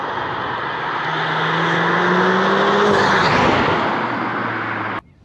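Stage 2 modified manual Mk7 VW Golf R accelerating hard, its engine note climbing through the revs and swelling loud before cutting off abruptly at the end, with no talking.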